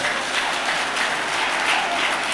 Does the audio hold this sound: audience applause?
yes